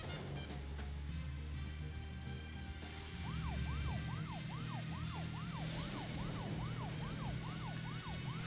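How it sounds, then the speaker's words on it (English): A video game siren wails with a rapid, repeating up-and-down sweep, starting a few seconds in over a low steady rumble of background noise, continuing steadily to the end. "they turned the siren noise down a bit in this one as well"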